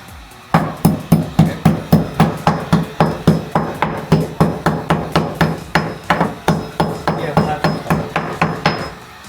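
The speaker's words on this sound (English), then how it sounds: "that there is how you hammer a hole in a countertop" Steady, loud hammer blows strike a quartzite countertop to knock a hole through it, about twenty sharp metallic hits in an even rhythm that keep going for several seconds close by.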